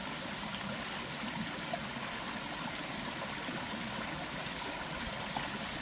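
A broad river stream flows steadily, a soft continuous wash of running water, faint and even with no distinct splashes and no voices.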